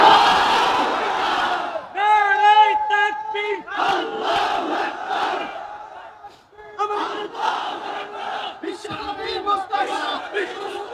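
A large crowd roars the takbir in unison in answer to a preacher's call at a religious sermon, loud chanted bursts repeated several times with brief pauses between them.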